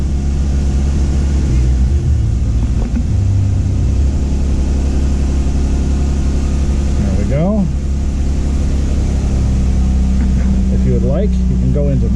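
A 2018 Jeep Wrangler JK engine idling, a loud steady low hum throughout, with someone talking over it at times.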